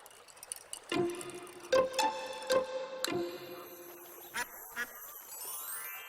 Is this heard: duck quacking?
yes